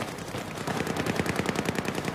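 Automatic gunfire in the video game Battlefield 4: a rapid, steady stream of shots over about two seconds, moderately loud and uninterrupted, with no voices.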